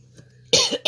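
Two quick, close coughs, the first harsher and doubled, from someone bothered by seasonal allergies.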